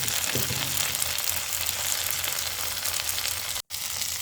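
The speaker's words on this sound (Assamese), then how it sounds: "তাতে মই এতিয়া খুন্দি লোৱা বাদামখিনি মই ইয়াতে দি দিলোঁ।" Crushed peanuts frying in a hot pan give a steady, close sizzle and crackle that runs the whole time, broken only by a split-second dropout near the end.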